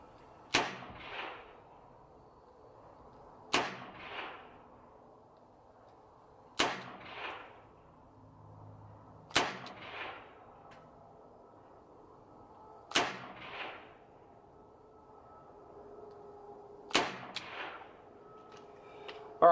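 A Smith & Wesson Model 19-5 revolver fires six double-action shots on a range, each a sharp crack with a short echo, spaced a few seconds apart against quiet surroundings.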